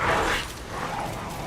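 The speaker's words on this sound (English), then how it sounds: "It's a mechanical puppet dog." Mechanical puppet dog from the game Lies of P, growling and yelping in a short, loud burst that fades into a steadier, lower snarl beneath the game's ambience.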